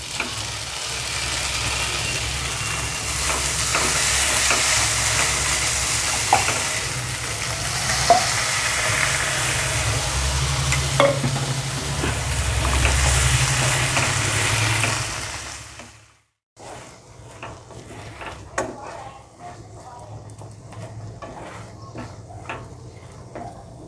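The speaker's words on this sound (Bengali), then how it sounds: "এখন আমি এই ভেটকি মাছগুলো সব দিয়ে দেবো আলু আর ভেটকি মাছ আছে" Bhetki fish pieces and potatoes frying and being stirred in a pan, a steady loud sizzle with scraping stirs for about sixteen seconds, then a brief pause and quieter crackling frying continuing.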